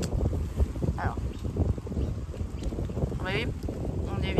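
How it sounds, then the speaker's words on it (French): Wind buffets a microphone outdoors, producing continuous low rumbling gusts throughout, with faint brief voice sounds under the noise. "Il y a du vent là, j'espère que ça va passer."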